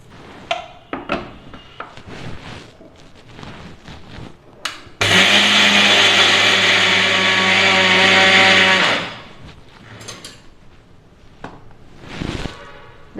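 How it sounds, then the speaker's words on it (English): A mixie grinder powders soaked, still-wet rice in its jar, a loud steady motor whir with a gritty grinding rush that runs for about four seconds, framed by quieter kitchen clatter before and after. "So this I will transfer it to a mixie jar and we will powder this finely."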